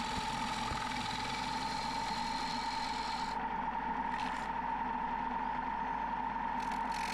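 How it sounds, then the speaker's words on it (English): A standard grind bowl gouge cuts a willow bowl spinning on a wood lathe, giving a steady close rasping hum over the motor's constant drone, with a few brief swells of shaving noise and no talk. "And we're back with the standard grind bowl gouge."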